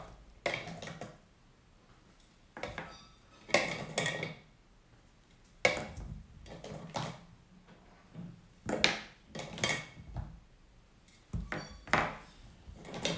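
Potatoes and felt-tip pens are dropped one by one into a salad bowl during a preschool counting activity, giving irregular clattering knocks and rattles with short quiet gaps between them.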